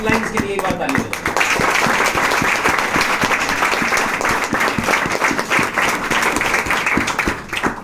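An audience at a business motivational event claps for the uplines, a sustained crackle of many hands lasting several seconds, with a voice talking over the clapping.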